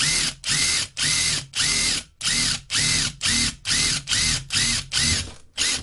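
A power drill bores a hole in a fiberglass saxophone case in short repeated bursts, about a dozen pulses with brief pauses between, loud and close.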